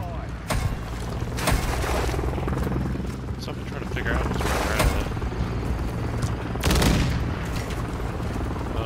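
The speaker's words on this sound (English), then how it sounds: "I got a helicopter coming in." A helicopter whirs in a Call of Duty Modern Warfare 3 match on the Underpass Hardpoint map, its rotor drone running under sharp bursts of gunfire and booms while a player talks over the action.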